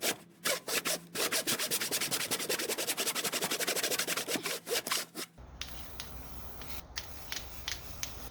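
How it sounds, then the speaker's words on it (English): A handsaw cuts through wood in fast, even back-and-forth strokes that rasp close and loud for about five seconds, then stop, leaving quiet rustling and faint handling noises. "this has taken me like 10 minutes, just hand sawing it"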